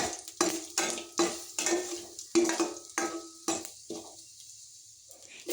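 Curry leaves dropped into spluttering mustard seeds in hot oil while cooking an okra palya, a series of sharp sizzling crackles and pops in quick bursts that gradually thin out.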